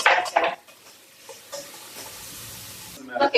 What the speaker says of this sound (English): You got to stir it, you don't want that burned.